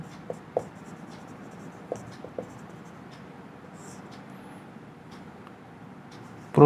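Teacher writing notes on a board during a biology lesson, with a faint, steady scratch of strokes and a few light taps along the way, then a louder knock right at the end, mostly without speech.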